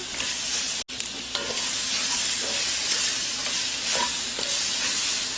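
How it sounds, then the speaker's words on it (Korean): Garlic stir-fries in a pot as the base for spicy chicken soup, a steady loud sizzle and hiss with a few scraping stirs, no talking. "마늘, 마늘도 한 고수저 정도 넣고 볶아주시고요."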